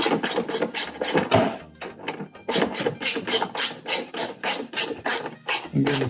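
Rapid rasping ratchet clicks repeat in short bursts as a hand tool tightens two 10mm screws on a Tacoma grille, close and clear, with a brief pause between runs.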